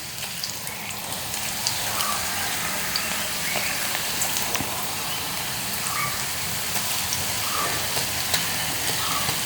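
Thin slices of taro fry in hot oil with a steady, dense sizzle that hisses evenly throughout, close up and without talk.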